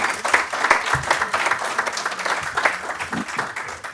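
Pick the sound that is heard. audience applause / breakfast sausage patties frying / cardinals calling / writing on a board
audience applause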